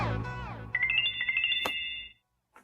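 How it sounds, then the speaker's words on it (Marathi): A mobile phone ringtone plays a bright melodic run of repeating tones for about a second and a half, close and clear, then stops abruptly; a short faint blip follows. "फोन आहे, काकाचा फोन आहे."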